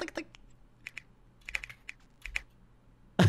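Close, crisp keyboard typing in short irregular bursts of clicks, ending with a sudden louder bump.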